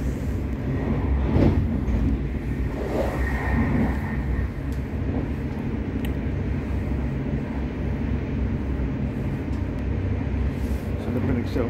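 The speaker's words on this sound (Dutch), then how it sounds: "Ik heb de eerste klas van deze trein." Inside the first-class carriage of a moving passenger train from Utrecht to Schiphol, a steady rumble and rattle of the wheels carries on throughout, with a voice talking over it.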